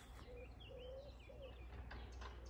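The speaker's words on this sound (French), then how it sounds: "on entend les oiseaux en permanence" Birds sing faintly outdoors on a sloped wooded plot, a few short, repeated tonal calls and coos drifting in the quiet distance.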